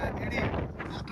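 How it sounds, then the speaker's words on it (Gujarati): Strong wind blows across an outdoor spot at the Dharoi adventure fest, a brief low rumbling rush of gusts against the microphone, with faint talk mixed in. "બાકી વાયરો જોરદાર આવે"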